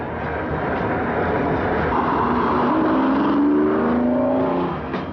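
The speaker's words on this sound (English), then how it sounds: "It's called the Diablo, and it's the fastest car in the world." A 1991 Lamborghini Diablo engine revs hard and loud, its tone rising and climbing in pitch over a steady, roaring drone, with no voices.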